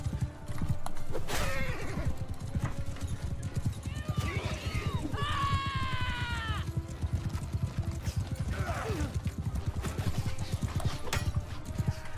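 Horses gallop in a medieval battle in the video game Bannerlord, their hooves drumming steadily throughout. A whinny rises partway through, and a voice talks over the action.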